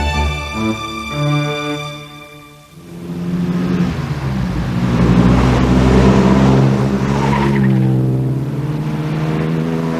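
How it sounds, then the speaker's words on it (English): An Aston Martin race car sweeps past with a loud, rich exhaust note. A deep engine tone rises as it nears, then swells into a broad roar before easing off. No voices are heard. "People usually hear the car coming probably more than, because it has a rather lovely exhaust note."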